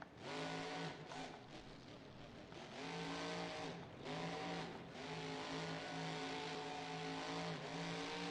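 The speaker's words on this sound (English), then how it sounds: "As you can hear that 540 Millin engine screaming." A supercharged 540 engine with Zoomy headers screams and revs hard as a vehicle attacks a freestyle arena ramp, loud and sustained with rising and falling pitch sweeps and a harsh, continuous roar throughout.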